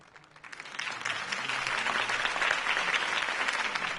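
Crowd applause after a mayoral campaign speech, a dense wash of clapping that swells in over the first second and holds steady, moderately distant.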